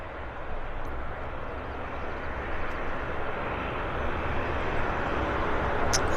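Porter Airlines Embraer 195 jet turning onto the active runway at Vancouver airport, its engines giving a steady broadband roar that swells slightly over several seconds, heard from a distance without talk.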